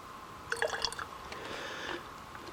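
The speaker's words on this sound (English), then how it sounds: "you see how that water drips down that groove?" Water from a trail seep dripping down a small groove outdoors, a quick cluster of close, bright plinks and trickles over a couple of seconds, then a faint continuous run of water.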